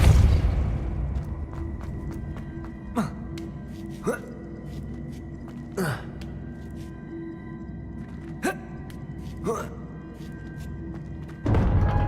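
The Depulso force-push spell is cast in Hogwarts Legacy, with several sharp whooshing bursts and thumps over a low ambient game hum, ending in a heavier thud.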